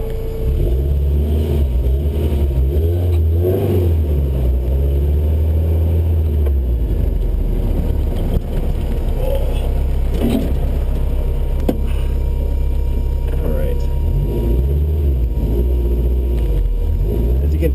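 A Datsun 510 estate car pulling away and driving on, its engine a steady low rumble close by, with revs rising and falling through the run and no talking over it.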